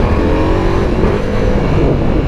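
A 2024 Ducati Multistrada V4S with a 170 hp engine revs loudly up close, a dense, rough engine roar sustained over a couple of seconds with no voices.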